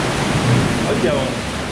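Ocean waves crash and surge at a beach grotto on the Atalaia coves in Brazil, a broad roaring wash of noise that fills the short moment and swells slightly midway.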